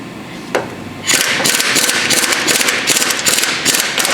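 Impact wrench loosening a control arm bolt on a 2007-2011 Honda CR-V: a rapid rattling hammer burst kicks in after a brief tap and runs steadily to the end, loud and close.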